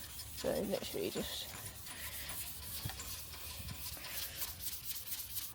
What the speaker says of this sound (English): I'm now going to scotch the primer